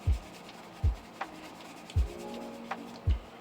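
Wax shoe polish is dabbed and rubbed into a shoe, giving soft rubbing strokes broken by four firm, evenly spaced taps or dabs, close and clear with no talk.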